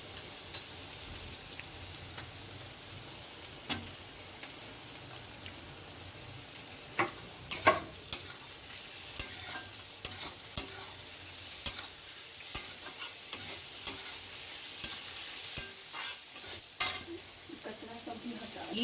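Shredded cabbage fries in a pan with a continuous soft sizzle. Sharp scraping taps from a stirring spoon come irregularly and grow more frequent partway through.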